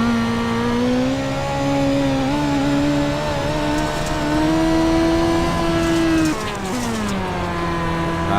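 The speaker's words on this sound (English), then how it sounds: "Just listen to him working that throttle." A USAC midget race car engine in the iRacing simulator at Williams Grove, droning loud and close with steady high revs, the pitch rising and dipping as the throttle is worked, then a sharp lift and re-acceleration near the end.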